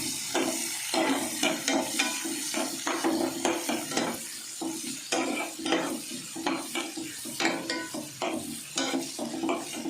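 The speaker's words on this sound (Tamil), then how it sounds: "இப்போ இது நல்லா ப்ரௌனிஷ் ஆகிற வரைக்கும் ஃப்ரை பண்ணலாம்." Chilli chicken fried in a pan until brown, with a continuous close sizzle broken by frequent scraping stirs and light clinks of utensil on metal, in uneven bursts.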